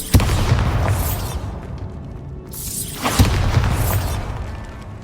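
Two heavy booming blasts from the Bombarda spell in the Hogwarts Legacy video game, each a sharp hit followed by a rumbling, whooshing roar, loud and close.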